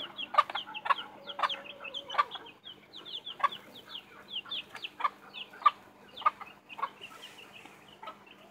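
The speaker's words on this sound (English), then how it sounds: "A lot of chickens." Many chickens cluck in short, repeated bursts, a busy overlapping chorus of hens close by with scattered louder squawks.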